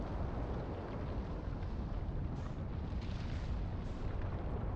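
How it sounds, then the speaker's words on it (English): Planetary bombardment in Outer Wilds, a continuous loud roaring rumble like a dense barrage of impacts, heavy and unbroken for nearly five seconds. "Is there a way to accelerate how destructive the bombardment of this planet is?"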